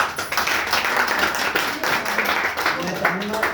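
Audience applause at a formal welcome ceremony in a courtyard: steady, dense clapping from a crowd that carries on at an even level throughout, with a little talking mixed in.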